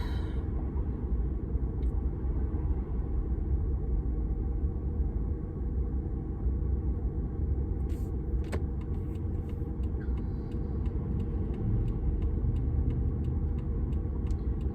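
A large truck hauling hay bales drives past outdoors, a steady low rumbling engine and road noise holding for the whole stretch, with a few faint clicks and ticks late on.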